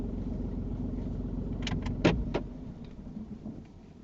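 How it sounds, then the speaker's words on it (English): A car engine switched off during a UK driving lesson: a steady idle rumble, then a few sharp clicks and a clunk before the low hum fades away, with no talk. "Turn your car off a minute."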